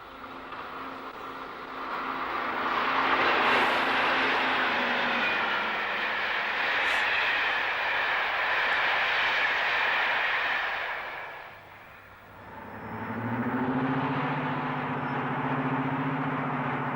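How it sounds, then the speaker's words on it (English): Deltic diesel locomotive 9015 Tullia hauls the southbound Flying Scotsman past at speed, a loud broadband engine roar swelling up, holding, briefly dipping, then rising again. "As the up main is cleared, Deltic 9015 Tullia hurtles south with the up-flying Scotsman"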